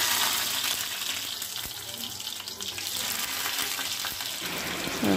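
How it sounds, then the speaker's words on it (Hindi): Steady sizzling of garlic and onion frying in hot oil, a continuous crackling hiss with occasional soft clinks, close by and without talk. "इधर मैं लहसुन और प्याज का तड़का अपना लगाऊंगी"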